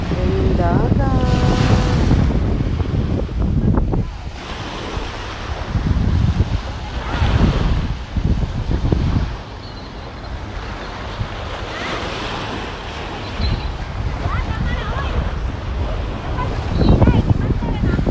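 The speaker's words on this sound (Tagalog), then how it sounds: "Ayan yung dagat." Sea waves roll and crash nearby at a Kuwait seaside while strong wind buffets the microphone, with a few brief voices heard over the surf.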